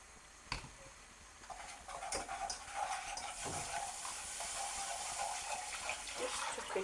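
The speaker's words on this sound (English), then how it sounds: "I think that'll be alright now to put the milk in there." Milk pours into a fish pie sauce in a pan, a soft, quiet liquid rush that swells after a brief clink and continues steadily, with faint ticks and stirring noises and no voices.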